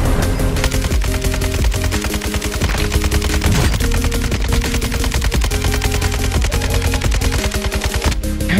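Warzone 2 gunfire, loud rapid automatic bursts and repeated shots near the player, continuous throughout with brief gaps between volleys over game music.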